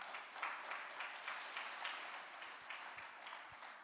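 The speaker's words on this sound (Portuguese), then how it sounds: "As palmas para o Senhor." A church congregation claps during a worship service, a dense, fairly faint wash of many hands with a loose rhythmic pulse, heard without speech over it.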